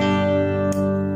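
Electric guitar played through a mini clean booster pedal, a sustained bright chord ringing with rich harmonics, loud and close, with a brief pick or string noise midway.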